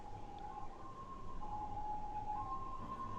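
A siren wails steadily at moderate distance through a Minecraft city scene, its tone holding and shifting pitch over constant background noise, with no voices heard.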